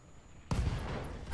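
Mech weapons fire in the RogueTech video game: a sudden loud broadband blast after a quiet lead-in, sustained as a roaring barrage with another burst swelling at the end.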